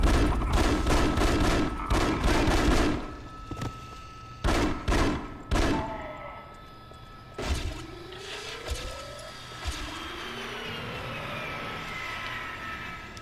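Rapid bursts of gunfire in the Wii shooter The Conduit, loud clustered volleys in the first few seconds followed by sparser single shots and sweeping whooshes over a steady background hum.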